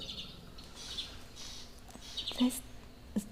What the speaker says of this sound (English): Sorry if you can hear all my birds shouting.